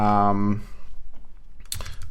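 Quick typing on a computer keyboard, a run of light irregular clicks that follows a short stretch of speech, close and fairly clear.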